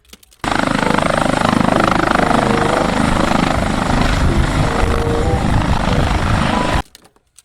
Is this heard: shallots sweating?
no